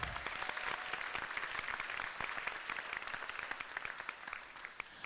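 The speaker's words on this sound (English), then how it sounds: "Give them a round of applause." Spectators at a jigsaw puzzle competition clap in a fairly quiet, distant round of applause, scattered hands blending into a steady patter that tapers slightly.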